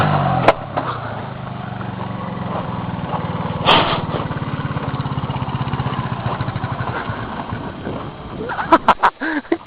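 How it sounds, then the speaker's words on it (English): A dirt bike engine revs hard during a burnout, giving a loud, close, sustained buzzing roar that rises and holds, then breaks into choppy bursts and sputters near the end. "Just give it a bunch of gas and drop the clutch."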